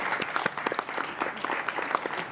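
People at a Board of Education meeting applaud, an even patter of many hands with a few distinct sharp claps standing out, fairly faint and sustained throughout.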